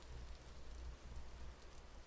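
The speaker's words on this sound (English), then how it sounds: "Beautiful rain sound." Rain ambience in the video game Vintage Story: a dense, steady hiss of falling rain with a low rumbling undertone, continuous and even throughout.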